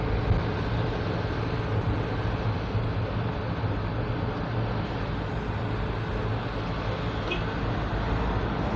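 Heavily loaded Mitsubishi Canter truck climbing a slight incline in third gear at about 2,600 RPM, a steady low engine drone and road rumble heard from inside the cab, continuous and even.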